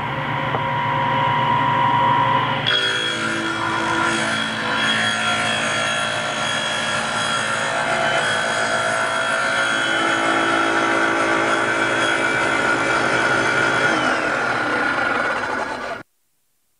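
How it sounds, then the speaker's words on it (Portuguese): A table saw runs with a steady whine, then its blade climbs slowly up through a wooden zero-clearance insert, adding a sustained grinding cut over the motor drone for about thirteen seconds before the saw stops. "O disco de serra está baixado, eu vou subi-lo"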